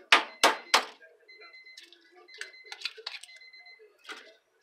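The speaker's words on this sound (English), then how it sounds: "There's the beeper for my dinner burning the rest of the way." Three sharp, loud electronic beeps from a kitchen timer signal that dinner is cooking, followed by quieter clinks and soft rustling in a room, with a faint final tone near the end.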